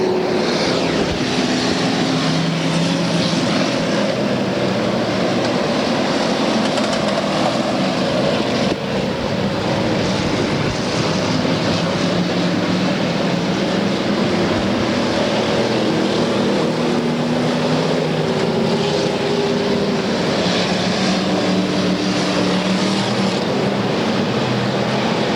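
Enduro race cars screaming at high RPM around the Bakersfield oval, a dense, continuous roar of several engines with shifting pitch that never lets up over the whole stretch, loud and wide with no break.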